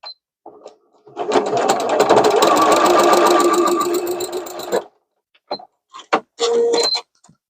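A sewing machine stitches the side seams of a fuzzy zipper pouch for make-up or pencils: a long, steady run of rapid mechanical stitching, then several short stop-start bursts, close and fairly loud, with no talking.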